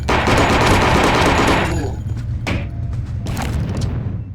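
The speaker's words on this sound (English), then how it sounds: "the AK can't fire single shots at all" An AK rifle in the shooter game Hellforces fires a loud, dense automatic burst, then breaks off into a few shorter bursts and single cracks. No voices are heard.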